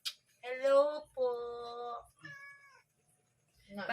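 A freshly woken cat gives three drawn-out, grumpy meows in close succession, clear and near, with a brief voice fragment at the edges.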